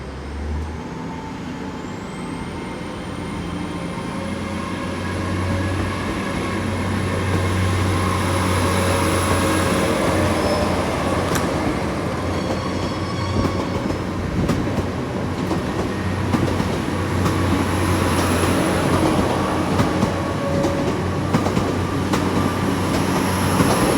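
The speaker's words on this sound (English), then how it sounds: "I know 150 coming in on platform 1, we'll see that in a minute." Class 150 diesel unit rolls into platform 1 at Exeter St Davids, a steady low rumble building over time, with a high whine, wheel and rail clatter, and occasional squeals, with no voices.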